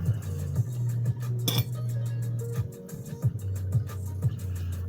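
A metal fork clinks repeatedly against a bowl while instant noodles are served, several bright, close, ringing taps at irregular intervals over a low steady hum.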